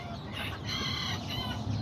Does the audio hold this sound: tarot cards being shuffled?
no